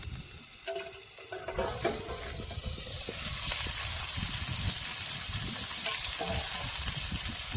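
Fish frying in oil wrapped in bottle gourd leaves sizzles steadily and loudly, with a few clattering knocks early on as the pieces are flipped in the pan.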